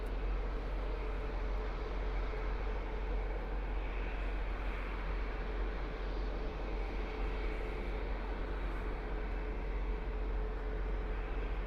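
A Flair Airlines airliner bound for Edmonton moves at Toronto Pearson airport, a steady, faint engine rumble heard at a distance with no talk over it.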